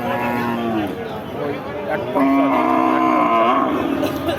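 A cow moos loudly, then lets out a longer, louder low call, close up amid the murmur of a busy cattle market.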